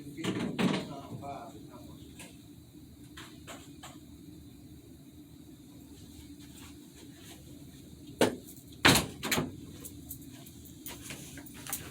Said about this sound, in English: Let me close the door right quick.